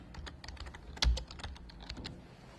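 Quick, soft keystrokes tap on a computer keyboard as a query goes into the Microsoft Word help search, a short run of close, quiet clicks with one slightly heavier key press.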